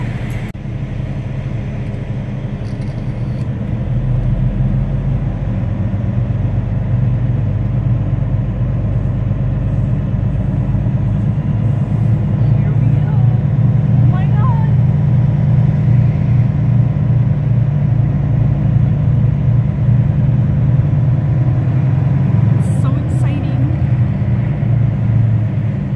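A truck engine idles and runs steadily as the rig pulls into another shop bay, with a loud, constant low rumble and throb throughout and faint clanks in the background.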